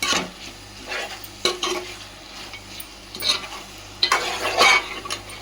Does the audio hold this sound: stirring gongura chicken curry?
yes